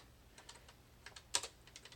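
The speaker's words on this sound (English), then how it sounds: "So here I'm using the arrow keys" A computer keyboard's arrow keys and space bar clicked in short irregular bursts while navigating graphics software, crisp close taps separated by pauses, one sharper strike near the middle, quiet otherwise.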